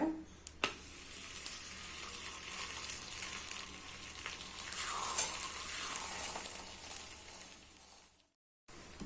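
Chapati sizzling and frying in a little oil on a dosa tawa, a steady close crackling hiss with a sharp snap near the start, running continuously before cutting off abruptly near the end.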